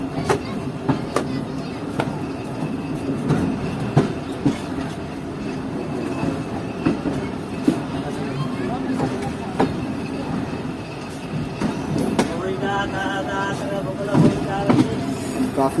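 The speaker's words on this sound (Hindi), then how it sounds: "तो ये ट्रेन इस वक्त निकल रही है बड़ा रेलवे स्टेशन से।" A train pulls out of a large railway station in rural Sindh, its wheels clattering and squealing steadily over the rails nearby, with people talking over the continuous rumble.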